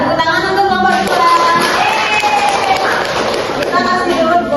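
Classroom of students clapping together during a teaching session, a dense, steady patter of hands mixed with children's voices and chatter throughout.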